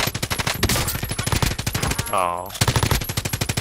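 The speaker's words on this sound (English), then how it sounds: "I am under fire. He's getting shot." Rapid automatic gunfire in a video game, dense rhythmic bursts of shots close and loud, pausing briefly mid-way then resuming, with a short exclamation from a player.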